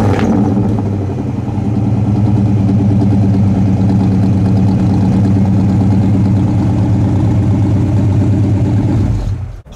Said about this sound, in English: that exhaust really bites too